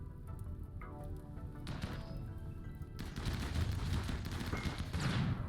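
Gunfire in a Rimworld battle: muffled, dense volleys and rattling shots over a busy low rumble, growing louder and thicker in the later half, with no speech.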